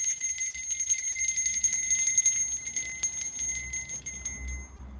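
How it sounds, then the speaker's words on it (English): A high, steady bell tone rings continuously with sustained overtones, fairly loud, over a low background rumble. "I have my bell back."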